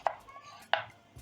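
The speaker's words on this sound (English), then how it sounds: "I'm cutting up my green bananas into wedges" Two sharp knife chops land on a cutting board, cutting green bananas into wedges, about half a second apart, close and fairly quiet, with no talking.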